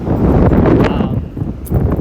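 Strong wind buffets the microphone in loud, rumbling gusts, with faint rustling on top.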